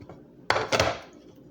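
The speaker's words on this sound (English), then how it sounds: "Put it in the microwave." Pizza rolls on a plate placed into a microwave: a sharp clatter at the start, then a second knock as it settles, close and fairly quiet, with no talk.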